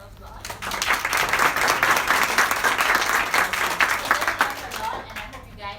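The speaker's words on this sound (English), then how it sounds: "can we give them a round of applause?" Audience applause at an enterprise sales meetup: a dense, steady burst of many hands clapping together that swells quickly, holds for several seconds, then tapers away, with some voices mixed in.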